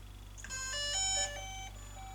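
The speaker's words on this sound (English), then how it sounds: "That's the sound of the drone firing up." A DJI Mavic drone powering on plays a short cluster of bright electronic startup beeps, stepping through several tones over about a second, above a steady low hum.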